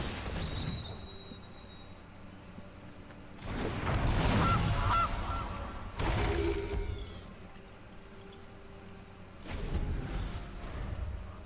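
Gilded Goose honk effect from the MTG Arena card game, several loud honking goose calls in separate bursts over a quieter game background.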